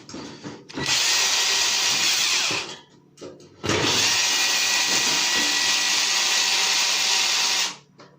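An electric drill whirs loudly in two long bursts, a short one and then a longer one, with a brief pause between and a clunk as it restarts.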